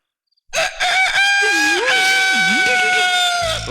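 A voice imitates a rooster's crow in one long, loud, close cock-a-doodle-doo with a wavering pitch, lasting about three seconds.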